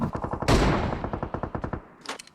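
Rapid automatic gunfire in a first-person shooter video game, a loud close burst of evenly spaced shots with a heavier blast early on, fading out and followed by a brief quieter rattle.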